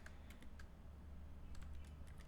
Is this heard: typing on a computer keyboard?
yes